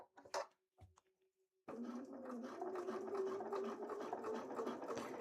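A sewing machine stitches fabric for a Link cosplay costume from The Legend of Zelda: Twilight Princess. A few faint clicks and taps come first, then a sustained, close, busy whirring runs steadily to the end.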